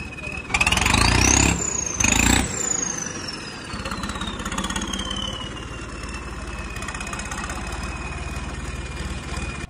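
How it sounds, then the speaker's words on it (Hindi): A Swaraj tractor engine runs nearby, revving in short bursts early on, then settling into a steady idle with a high whine fading over time. "ट्रैक्टर का भाई रिस्पॉन्स चेक कर लिया,"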